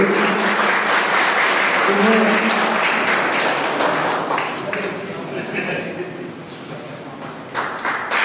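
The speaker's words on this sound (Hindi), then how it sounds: "आप जोरदार ताली बजाते रहिए" An audience at a BSM College award ceremony applauds as students come up to receive mementos from the principal, a thick burst of clapping that gradually thins, with a voice speaking over it.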